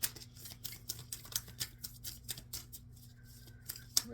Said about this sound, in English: Shuffling for Libra Spirit.